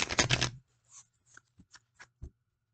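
A deck of cards riffled in a quick burst of crisp flutters, then a few soft taps and snaps as the cards settle, close and fairly quiet.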